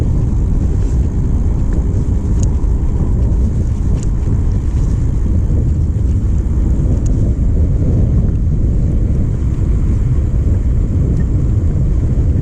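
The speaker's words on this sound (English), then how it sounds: "I'm just going to take the bike for a spin now" Steady, loud wind roar and rumble while riding an e-bike with a KT sine wave controller and Voilamart hub motor on a bumpy road, with continuous buffeting over low road noise and no talk.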